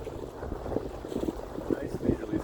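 A sailboat under both sails on a chilly beam reach, about 4 knots, with steady wind rush and water sloshing against the hull in a continuous, moderately loud wash.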